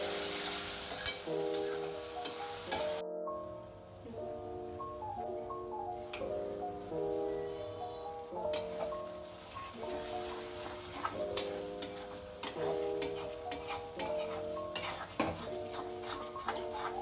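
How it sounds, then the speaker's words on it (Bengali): Fried rice frying in a pan with a steady close sizzle, broken by the rhythmic tapping and scraping of a utensil stirring it, with no one talking. "অন্য সাইডে আমি ফ্রাইড রাইস রান্না করতে বসিয়েছি"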